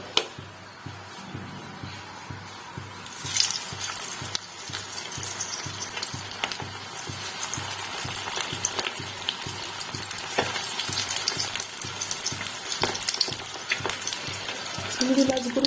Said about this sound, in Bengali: দেখুন, এখানে আমি কড়াইয়ে সাদা তেল গরম করতে দিয়ে দিচ্ছি। আমি ডিমের চপ এবং চিংড়ি মাছের চপগুলো গড়ে নিয়েছি, এগুলো আমি একে একে ভাজবো।